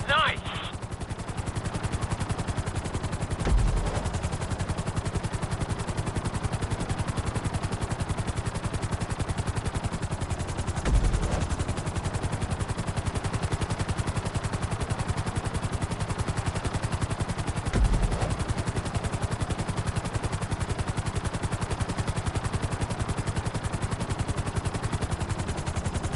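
A helicopter in the video game GTA V keeps up a continuous rotor and engine whir, steady and moderately loud, with a few faint thumps along the way.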